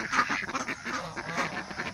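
A white Pekin duck on a backyard farm quacks repeatedly in short, raspy nasal calls, close and fairly loud, with no voices over it.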